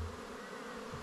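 Honeybees hum inside an opened hive during an inspection, a brief, soft, steady buzz close by.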